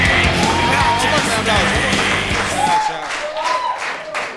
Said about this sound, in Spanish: fuerte el aplauso para Matías Acuña